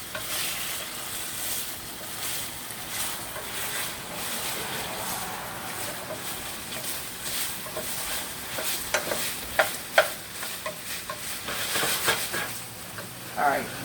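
Lean chicken sausage fries in a little oil in a skillet, giving a steady sizzle with stirring and scraping that builds into sharper crackles and clinks toward the end.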